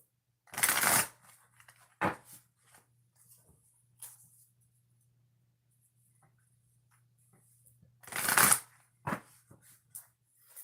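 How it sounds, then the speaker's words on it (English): A deck of cards is shuffled twice, each riffle a brief crisp rustling burst, the first near the start and the second several seconds later, with soft handling clicks and quiet pauses between them. "So I'm going to shuffle the deck"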